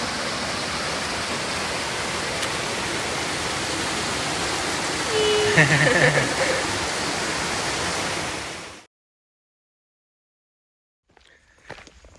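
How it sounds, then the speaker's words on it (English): A waterfall on the Appalachian Trail in Virginia's Grayson Highlands roars as steady, broadband rushing water, loud and close for most of the time before it cuts out abruptly into near silence with a brief faint rustle at the end. "We stopped here at this waterfall."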